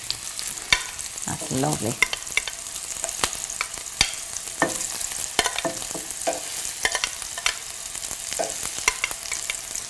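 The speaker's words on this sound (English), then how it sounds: "And in go my meatballs. Yes. You get the sizzle." Meatballs fry in smoking-hot olive oil with a steady crackling sizzle and sharp spits and pops throughout, some brief stirring or shifting in the pan, and a short spoken remark near the start.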